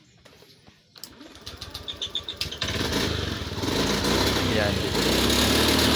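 A Honda Beat FI scooter engine with a freshly cleaned throttle body and poor pull fires up with uneven, stuttering chugs, then settles into a loud, steady misfiring roar close by, with a brief spoken word.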